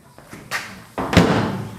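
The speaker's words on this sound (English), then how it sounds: "And I can close the door still." A car door on a custom Renault body fitted to a VW chassis swings shut, with a light knock, then a louder solid thud and a short rattle close by.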